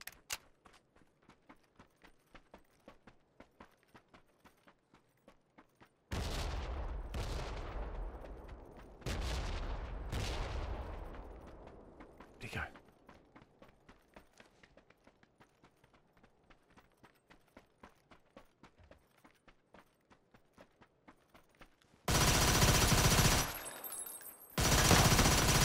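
Win94 lever-action rifle shots in PUBG on Xbox One, a handful of loud sharp cracks with decaying tails at uneven intervals, then a loud broadband burst near the end over faint background game noise.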